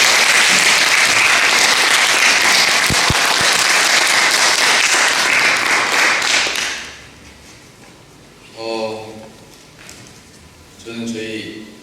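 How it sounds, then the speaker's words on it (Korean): A congregation at a London joint revival service claps loudly to welcome the pastor, the applause running thick for about six seconds before dropping away, followed by brief talk. "박수로 환영합니다"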